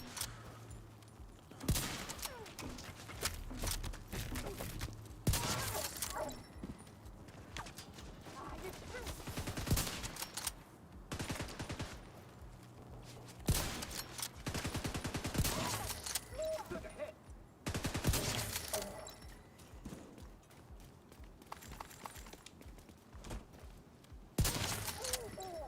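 Gunfire in The Division 2 comes in repeated bursts of rapid automatic shots, loud and sharp, separated by brief lulls, with a player's voice heard between the volleys.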